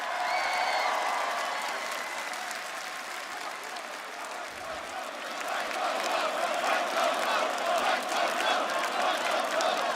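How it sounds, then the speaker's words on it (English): An audience at a WWE press conference applauds Michael Cole, sustained dense clapping and crowd noise with some cheering, loud and continuous throughout. "let's take a moment here and give a round of applause for Michael"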